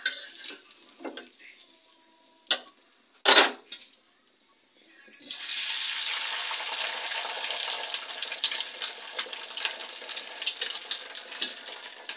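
A few clinks of utensils on a pan, then a steady loud sizzle of an egg frying in hot oil that continues to the end.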